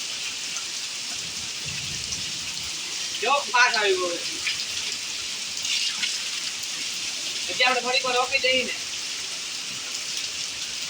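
Heavy rain pours down steadily outdoors in Gujarat as a dense, continuous hiss. Two short stretches of nearby talk sit on top of it.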